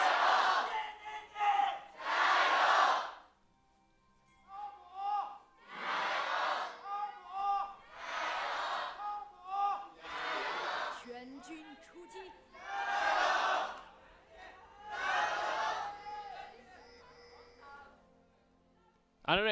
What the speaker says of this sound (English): What's the third chant?